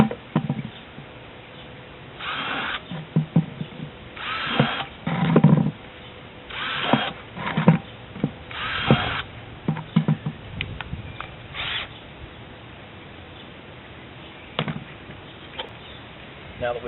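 A power drill bores ventilation holes just under the rim of a 5-gallon plastic bucket, in short whirring bursts separated by handling noise and pauses, close and moderately loud.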